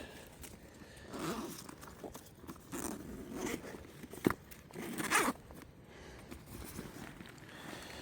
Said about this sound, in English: Now you can see it's unzipped on both sides